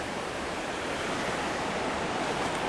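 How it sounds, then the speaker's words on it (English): Steady, full-bodied rush of fast-moving water, loud and continuous with no pauses, like rapids churning close by. "And then where the rapids are, it's louder."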